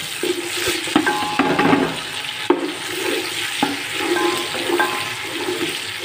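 Onions with chopped green chilies frying in a pan for homemade food, a steady close sizzle with occasional stirring clinks and scrapes, no talking.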